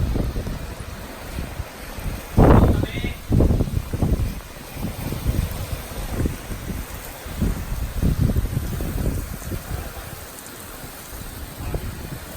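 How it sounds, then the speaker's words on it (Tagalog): Heavy rain and gusting wind sweep across a dairy farm paddock, with bursts of rough wind buffeting the microphone over a constant hiss of falling rain. "grabe yung hangin ngayon"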